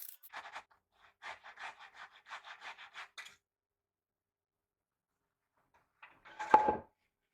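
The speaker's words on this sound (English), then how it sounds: "This is known as a rib cut, since I am cutting along the grain." A hand saw rip-cuts along the grain of a 2x4 in a quick series of rasping strokes, pauses in silence, then one final louder scraping stroke close by.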